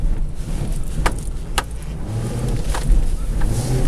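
A 1995 Suburban's engine revving up on its own while driving, with no foot on the gas: a loud, steady low rumble heard from inside the vehicle, with a few brief clicks and rattles over it and no talking.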